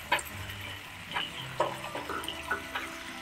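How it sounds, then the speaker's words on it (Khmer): Water splashes and trickles into a hot pan, close up, with a soft hiss and a few sharp clinks scattered throughout. "ចាយើងដាក់ទឹកចូលបន្តិចមក"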